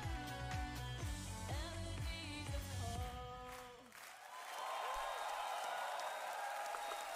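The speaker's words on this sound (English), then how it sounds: "the audience loves it because they were clapping along" A live audience claps along and cheers at a concert, first over the rhythmic music, then swelling into sustained applause and crowd noise after the song ends.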